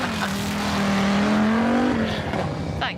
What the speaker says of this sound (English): Zav, is that the 200, the Audi Quattro 200 that just went off the line?